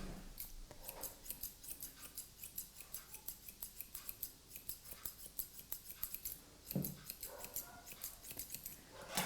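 Rapid, repeated scissor snips close by, crisp metallic clicks in a steady rhythm with brief pauses, as a Lhasa Apso's hair is trimmed around the back leg for a competition trim.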